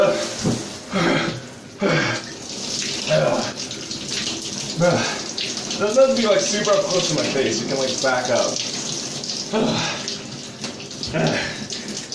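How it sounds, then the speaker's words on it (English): A cold shower runs steadily throughout, a constant hiss of spraying water while a person talks over it. "now we have to friggin' take the second cold shower"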